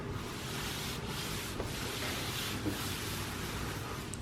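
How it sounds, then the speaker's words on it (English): A hand rubbing across rough, washed paint on a Range Rover under restoration, a continuous dry scraping hiss like sandpaper, close and steady with a few faint bumps, no talking. "you can rub your hand across it and you'll be able to feel and hear it"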